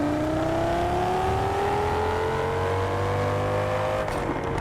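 Lamborghini Huracan V10 engine in the racing game TDU Solar Crown, a loud sustained drone that climbs slowly in pitch as the car accelerates, then drops away abruptly near the end.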